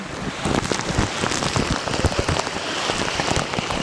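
Steady monsoon rain pours down in Bacolor, a dense hiss of drops pattering on surfaces with no pauses, fairly loud and close.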